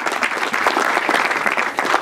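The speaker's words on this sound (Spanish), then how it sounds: "Y un aplauso, señor Dios Cachilal." A crowd claps steadily at a thanksgiving religious gathering, a dense, close burst of applause that keeps going for the whole couple of seconds with no talk over it.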